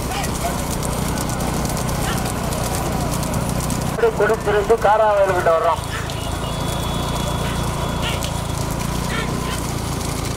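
Racing bulls pounding along in a rural bullock cart race, a rumble of hooves and cart noise heard under an excited commentator calling the race over a loudspeaker, with a brief horn-like tone partway through.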